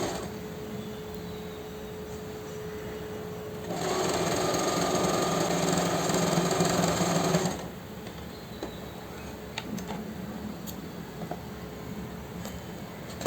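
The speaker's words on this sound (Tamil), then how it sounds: "இது ஒரு ஸ்டிச் போட்டோம்னா இதோட வேலையும் கம்ப்ளீட் ஆகிடுச்சு" A sewing machine stitches the waistband of a ladies' straight-cut pant, a close, fast mechanical whirr that runs for about four seconds and then stops, with quiet room sound before and after.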